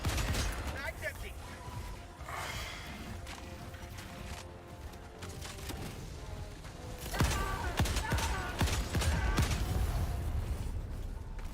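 Rapid gunfire from Helldivers 2 crackles through a busy game mix, with a denser burst of shots near the end and voices talking over it.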